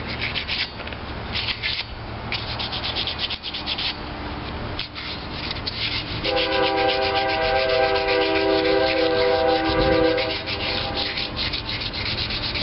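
A part of a Maytag Model 72 engine is hand sanded for paint, giving a steady rhythmic scraping and rubbing close by. Partway through, a tonal metallic ringing joins the sanding, and no one speaks.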